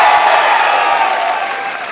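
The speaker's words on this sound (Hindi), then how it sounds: "दोनों हाथ खुलकर जोरदार तालियां बजाओ" Steady, dense applause from a large audience at a poetry recital in Malegaon, a loud continuous wash of many hands clapping that slowly eases toward the end.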